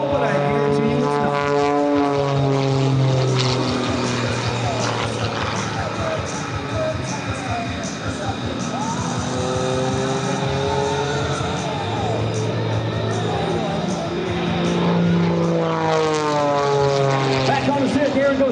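A propeller aerobatic airplane flying an outside snap and vertical snaps at the Wings Over South Texas air show, flown by Aarron Deliu, its engine droning loud and near with rising and falling pitch, while a commentator talks over it.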